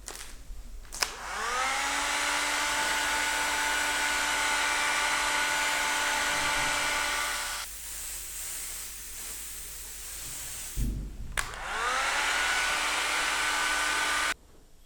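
Airbrush or spray gun spraying paint onto leather while thread is being coated, a steady loud hiss in two long bursts separated by a short pause, with no talking.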